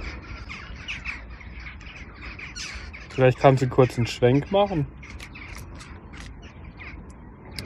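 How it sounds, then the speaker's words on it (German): Jackdaws fly overhead outdoors and give a burst of sharp, repeated calls, clear and fairly near, under and between people talking during a walk. "das sind Dohlen"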